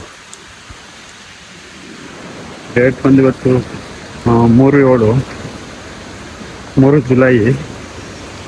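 Heavy rain and the flowing Irpu waterfall at Brahmagiri in Coorg make a steady, loud broadband roar throughout, with someone talking over it in short bursts.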